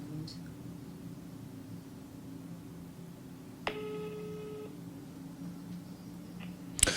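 A phone is dialed for a call. A single short electronic telephone tone sounds for about a second midway, faint and alone over a low steady hum.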